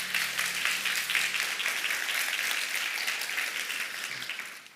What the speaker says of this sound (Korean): 우리 형제교회 다운타운 캠퍼스의 아주 중요한 과정들을 수료한 여러분들 축하의 박수 올려주시기 바랍니다.